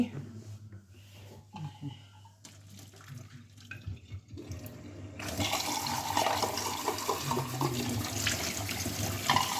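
Cold tap water runs over a freshly boiled egg in a kitchen sink, starting partway through as a steady, close rushing splash after a quieter stretch with faint talk.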